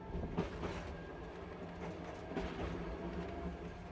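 Streetcar or electric train running on rails, a steady rumble with faint rhythmic clatter throughout, moderately quiet and with no talking.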